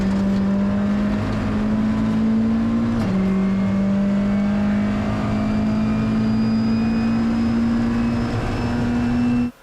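A rally car is pushed hard on a gravel stage at Rally Hawkes Bay, its engine a loud, sustained high-revving wail that dips briefly at a gear change, then climbs steadily before cutting off abruptly.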